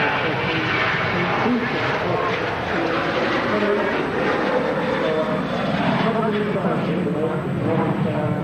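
An airliner departing from an airport spotting area gives a loud, continuous engine roar that holds steady, with people talking over it.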